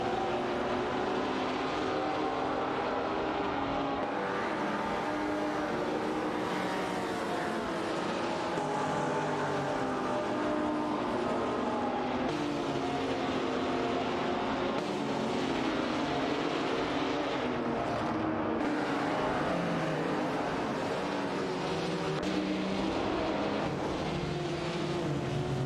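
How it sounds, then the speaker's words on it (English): AI-driven race cars in a September 2024 AI racing event accelerate and corner, a continuous loud engine drone with shifting harmonic tones running steadily throughout, with no talk. "The AI-driven car's aggressive acceleration and optimized cornering appear to be paying off."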